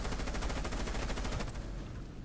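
Rapid bursts of automatic gunfire from the Rainbow Six Siege video game, a dense stream of close, loud shots that rattle steadily before fading into a short tail, with no talk over it.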